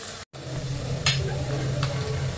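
Onions sauté in a pan with a steady, close sizzle, broken briefly by a couple of light stirring scrapes.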